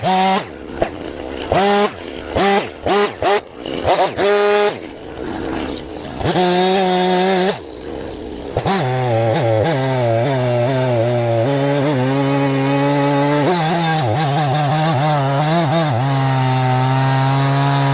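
A chainsaw with a dull chain cuts a log into a piece for the sawmill, the engine revving in uneven bursts for several seconds before settling into a long, loud, continuous cut.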